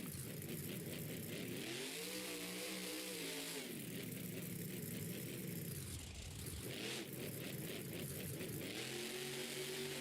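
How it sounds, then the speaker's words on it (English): A racing vehicle's engine roars steadily down a speedway, its pitch rising and falling as it accelerates and passes, loud and continuous throughout with no talk. "Jim Kohler zooming down the speedway"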